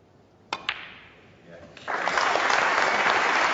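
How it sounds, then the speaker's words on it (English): A couple of sharp clicks, then a warm burst of snooker audience applause for a century break rising in and holding steady, fairly loud. "Applause for the century"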